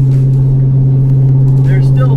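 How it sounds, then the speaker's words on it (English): Foxbody Ford Mustang with Megasquirt fuel injection pulling on the street, its engine droning loud and close in a steady low rumble, with a voice talking over it inside the car. "I'm telling you guys, this car runs so good."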